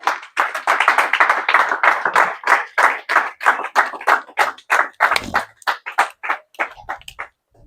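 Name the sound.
congregation applauding in church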